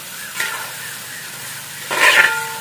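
Finely chopped onions and shallots hit a hot pan in a village-style pepper chicken preparation, giving a short hiss near the start and a louder, fuller sizzle burst about two seconds in, close and without talk.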